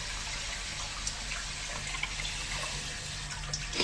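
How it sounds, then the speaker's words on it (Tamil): Steady running water splashing while Sankara fish is washed, a continuous close rush with small splashes and no talk. "ஒரு சைடு மீன் வாஷ் பண்ணிட்டு இருக்காங்க"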